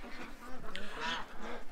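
Ducks quack together as they are fed outdoors, a short close flurry of rough calls that overlap one another.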